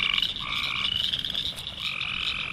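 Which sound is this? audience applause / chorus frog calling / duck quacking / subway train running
chorus frog calling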